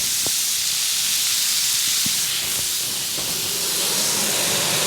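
A NY strip steak sears on a Lodge cast iron griddle just after being flipped, giving a loud, steady, close hissing sizzle throughout with a few faint ticks and no talking.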